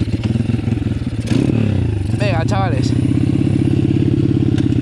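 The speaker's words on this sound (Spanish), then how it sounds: "ya vamos a ir poco a poco estirando más la moto" A 140 motorcycle engine runs steadily at close range while being gently broken in on its first ride, with a low rhythmic throb, a brief rise in pitch, and someone speaking briefly over the engine.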